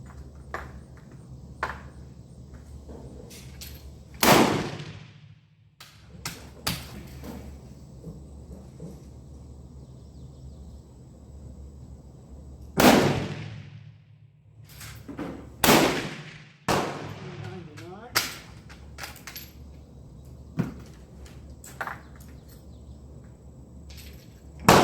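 Berthier Model 1916 rifle firing powder-coated cast bullets outdoors: several sharp, loud gunshots spaced seconds apart, each with a short echoing tail, with quieter handling clicks and rustles between shots.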